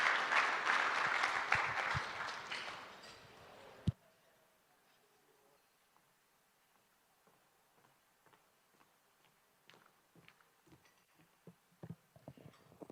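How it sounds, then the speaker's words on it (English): Audience applause for the Minister of Education at a tenth-anniversary gala: a dense, loud burst of clapping for about four seconds that cuts off sharply, followed by quiet room noise with scattered faint taps. "A round of applause."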